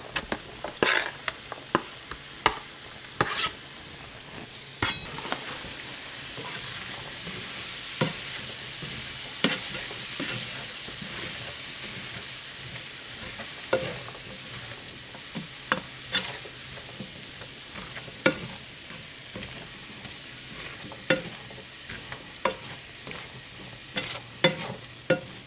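Peppers and onions sizzle in a skillet for a sustained stretch, a steady crackle broken by frequent sharp clacks and scrapes of a spatula stirring.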